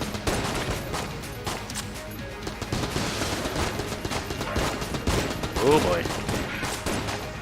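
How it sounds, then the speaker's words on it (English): A Thompson gun firing explosive rounds in the game Enter the Gungeon, dense rapid bursts of automatic fire mixed with explosions running throughout, with a short spoken remark near the end. "With the explosive rounds, the Thompson's the way to go."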